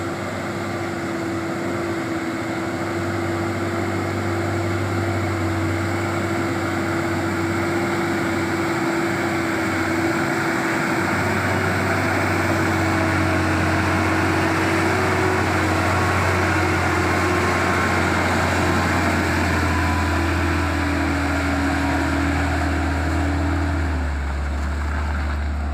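A Hino 500 truck engine idles close by as a loud, steady low rumble with a constant drone, shifting slightly in tone partway through and continuing unbroken to the end.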